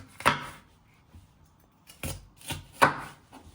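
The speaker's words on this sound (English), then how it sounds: "So you chop it down the middle again, turning it around and then chopping it into three." Chopping vegetables with a knife on a board for roasted veg, a few sharp separate chops spaced out over a few seconds, close and clear.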